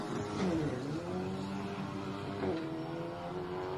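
Race cars at a motor racing event in Kashmir, engines droning loudly and continuously with rising and falling revs as the vehicles speed past, no voices.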